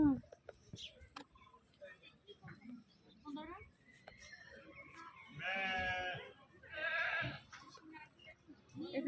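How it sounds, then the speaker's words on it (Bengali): Goats and sheep bleat in two drawn-out calls a second or so apart, faint and close amid low murmuring voices and scattered handling noises. "ছাগল, ভেড়া দেওস না?"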